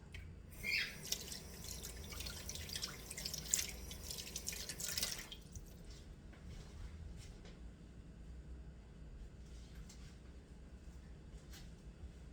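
Water runs from a sink tap as hands are washed in a home kitchen, a steady splashing rush that is loudest in the first five seconds, then drops to faint dripping and trickling.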